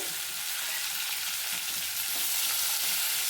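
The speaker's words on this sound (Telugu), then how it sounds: "బాగా వేసుకుందాం చూడండి ఇట్లా వేగుతూ ఉంది కదా" Chopped tomatoes for tomato coriander chutney frying in a pan, a close, loud, even sizzle that hisses without pause, with no voices.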